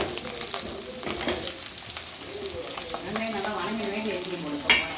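Onions sizzle in hot oil for fenugreek kuzhambu, a steady close crackle and hiss with occasional stirring scrapes.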